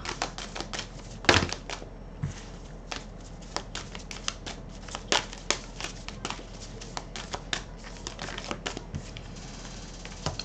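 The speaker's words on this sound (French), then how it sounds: "on va tirer quelques cartes avec l'oracle la lunologie" Lunology oracle cards are drawn and shuffled, giving soft repeated taps, slides and card snaps at close range, with one sharper clatter early on and no talking.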